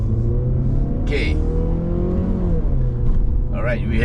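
A Mazda 6 20th Anniversary Edition with a 2.5-liter engine and 6-speed gearbox pulls up a Genting hillclimb, a loud, close engine tone rising steadily in pitch, with brief shifts and a voice talking over it.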